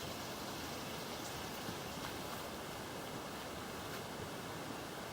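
A creek flows beneath a bridge. The water makes an even, continuous broadband rush with no clear rhythm, fairly quiet and steady throughout, with no voices.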